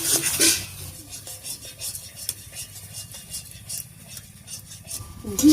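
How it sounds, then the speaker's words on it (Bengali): A spoon stirs ghee and sugar into shola kochu in a pan, with repeated scraping, clinking strokes against the metal and a faint sizzle underneath, fairly close. "এবার খুব ভালো করে মিশিয়ে নেব"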